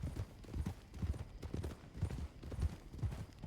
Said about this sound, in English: I'm riding bareback on a horse with denim jeans.